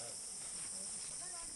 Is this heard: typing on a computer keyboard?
no